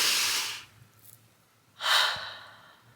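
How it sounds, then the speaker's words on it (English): Two deep breaths taken slowly during a calm group moment, each a long airy inhale or exhale close to the ear, separated by a short quiet pause. "I just want us to all take some deep breath."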